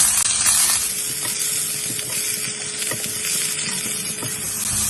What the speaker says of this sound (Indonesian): Kita bisa masukin bawang bombaynya. Si jahe dengan bawang putih juga kita bisa masukin.